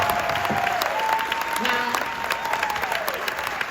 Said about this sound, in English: Give a round of applause for Howard Wheeler